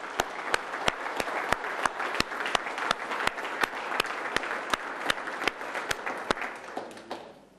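Soft, steady applause rises from the audience at a commemoration ceremony for the Ninth Infantry's Remagen bridge crossing. Sharp, evenly spaced claps ring out close by over the distant crowd before everything fades away.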